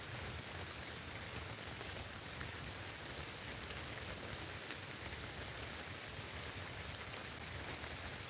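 Steady rain falls in a continuous soft hiss of drops, faint and even throughout, with no voices or other sounds.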